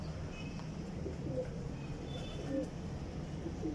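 Pigeons coo softly on a rooftop, low murmuring calls repeating under a steady outdoor background hum with a few faint chirps, moderately distant.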